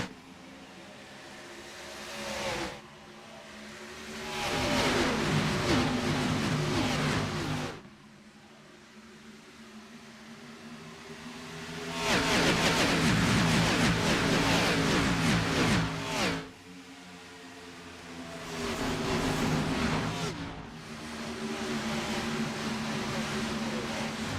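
Engines of stock cars in a sim racing league event at Atlanta Motor Speedway swell and fade in repeated loud surges, droning and whining as the field passes, with quieter gaps between.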